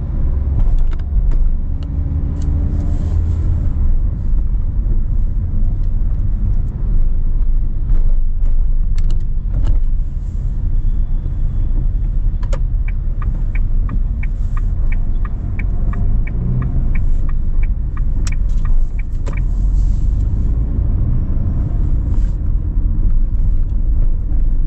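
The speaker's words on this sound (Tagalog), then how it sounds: "Napaka-traffic talaga." A car drives from Es Canar into Ibiza city, Spain, through heavy traffic. A steady, close engine and road rumble continues throughout, with a run of faint, evenly spaced ticks partway through.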